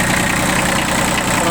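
Kubota B40 four-wheel-drive mini tractor with a 3-cylinder diesel engine idling steadily, a loud, close, continuous even rumble.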